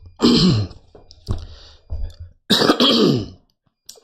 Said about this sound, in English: I actually had some weird cough